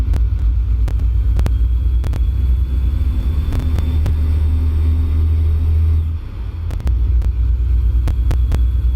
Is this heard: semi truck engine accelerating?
yes